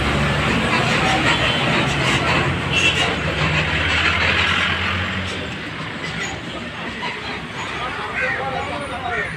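A loud outdoor fairground din at a Shivaratri fair in Sivasagar, with a train ride rumbling along, mixed with crowd babble and nearby talking.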